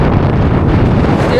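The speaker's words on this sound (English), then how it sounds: "Still very, very windy." Strong wind buffets the microphone on an exposed mountain hiking track in Tongariro National Park, a constant loud roaring rumble that stays steady throughout with no break.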